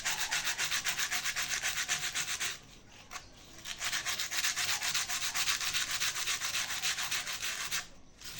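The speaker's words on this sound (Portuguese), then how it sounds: "Aqui no meio preciso lixar bastante, porque tá mais alto." A ceramic clay piece is sanded by hand with rapid, rhythmic rasping strokes, close and steady, pausing briefly twice before resuming, with no talking.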